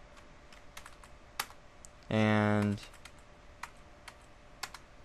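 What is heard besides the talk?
typing on a computer keyboard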